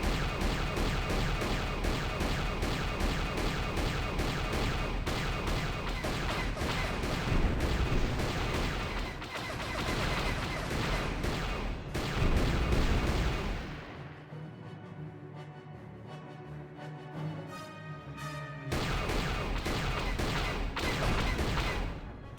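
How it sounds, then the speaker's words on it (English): A slow turret fires in the Star Wars video game Knights of the Old Republic, a long dense barrage of booming shots that thins briefly midway before continuing loud. "This turret is so slow."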